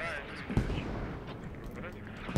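An artillery barrage in the military shooter Squad, with dense, continuous rumbling and thudding blasts beneath a talking commentator, and a couple of sharper impacts standing out.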